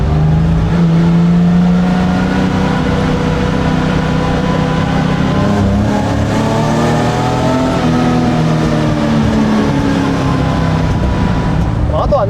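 A carbureted Nissan Skyline Hakosuka GT-R spec coupe drives along with its engine revving, a loud continuous drone rising and falling through the gears inside the cabin, while people talk over it.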